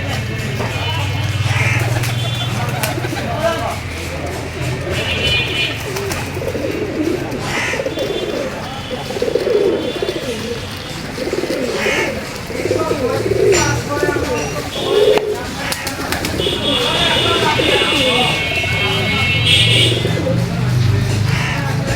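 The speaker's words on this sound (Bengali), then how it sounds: "কবুতরকে আমি গম, ধান, ভুট্টা এবং শীতের দিনে সরিষা দিয়ে থাকি।" Pigeons being fed wheat and rice grain in the morning coo in low, throaty rolls, clearest at the start and end, with some chirps mixed in and a person talking throughout.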